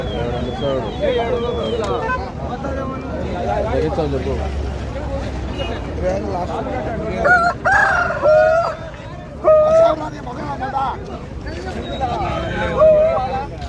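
Roosters crow repeatedly amid a busy Saturday poultry market in Mydukur, Kadapa, Andhra Pradesh, with hens clucking nearby and a steady babble of traders and buyers talking throughout.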